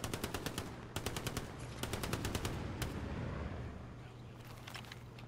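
Rapid bursts of machine-gun fire and single gunshots ring out in the Hell Let Loose war game, some shots sharp and close, others layered over a steady low battlefield rumble.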